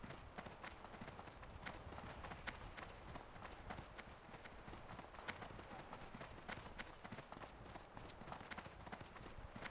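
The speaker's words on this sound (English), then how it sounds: "Guy showing off with his horse." A horse's hooves clip-clop in a video game, a faint, rapid run of regular hoof beats that carries on steadily, very quiet and low in the mix.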